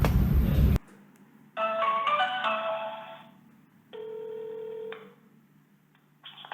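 A telephone rings in bursts of electronic melodic tones, loud and close, with a brief pause between rings and a third ring starting at the end.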